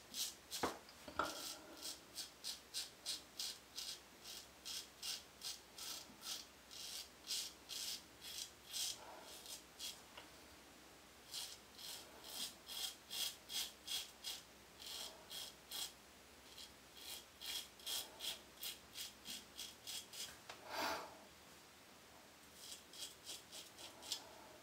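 A straight razor makes a second pass against the grain through stubble, fitted with a Kaimide blade. Close, crisp scraping strokes repeat in quick rhythmic bursts separated by short pauses.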